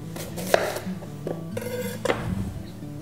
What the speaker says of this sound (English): You're just going to want to slice down the apple.